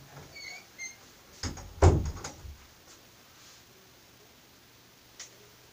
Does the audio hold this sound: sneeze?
no